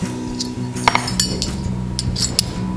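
A teaspoon clinks against dishes while measuring out salt for a spice mix for stuffed squash, several light metallic taps and clinks close by over steady background hum.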